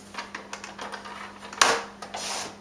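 A paper trimmer slicing a sheet of card for holiday cards: soft taps and shuffling of the paper, then one sharp, close cutting swipe followed by a short lighter swish, with no talking.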